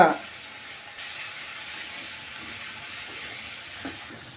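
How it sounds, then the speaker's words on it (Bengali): Masoor lentils are sautéed and fried in a pan for dal bhuna, making a steady soft sizzle close by with an occasional stir and no talk. "কি সুন্দর কষানো হচ্ছে ঠিক এইভাবে কষাবা"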